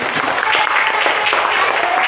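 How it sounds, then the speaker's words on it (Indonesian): Classroom applause from students after singing the Indonesian national anthem, dense and loud clapping filling the whole short stretch, with voices mixed in. "Baik, tepuk tangan dulu."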